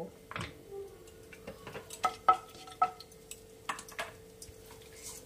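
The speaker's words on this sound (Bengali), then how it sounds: "ওই পেঁয়াজ ভাজার তেলেই আমি এবার দিয়ে দেবো ফোড়ন, দিয়ে দিলাম দারচিনি, দিয়ে দিলাম ছোট এলাচ" Cinnamon, green cardamom and other whole spices fry in leftover onion-frying oil, giving faint soft crackles and scattered light clinks of a spoon against the pan, with no talk.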